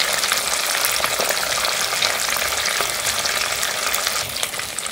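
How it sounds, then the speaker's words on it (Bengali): Pabda fish frying in hot oil gives a loud, dense and continuous sizzle, close and steady throughout with small crackles, and no voices. "এই কিন্তু খুব সুন্দর ভাজা হয়েছে দেখুন"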